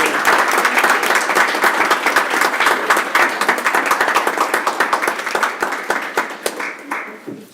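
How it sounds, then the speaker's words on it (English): An audience at a school board meeting claps steadily in a dense burst of applause that gradually thins and fades out over several seconds. "One more round of applause."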